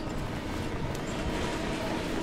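Subway train rumbling past in the game Final Fantasy VII Remake, a steady low roar and clatter that stays constant and fairly close.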